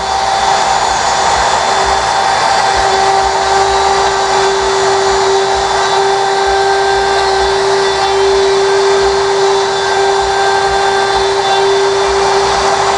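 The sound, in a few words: Festool router trimming wood for hinge installation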